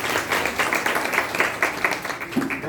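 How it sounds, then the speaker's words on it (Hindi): An audience at a religious class at Pusad claps for a participant, a steady dense patter of hands lasting a few seconds with faint murmuring underneath. "ताली बजाओ उनके लिए एक बार।"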